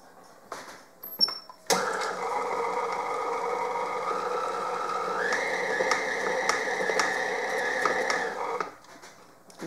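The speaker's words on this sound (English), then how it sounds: "just put it back on the mixer for a minute" A stand mixer briefly beats white chocolate cranberry shortbread dough, giving a steady motor whir with a hum that steps up in pitch partway through. A few clicks and knocks come before it starts and after it cuts off.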